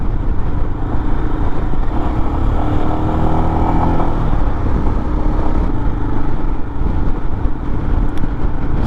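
A Royal Enfield Himalayan motorcycle ridden on the road from Columbus toward northern Kentucky, its engine a loud, steady drone under heavy wind rush, with a brief shift in pitch partway through.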